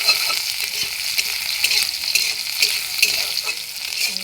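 Sliced onions frying in hot oil in a pan, a strong, steady close-up sizzle with light stirring scrapes running throughout, no voices present.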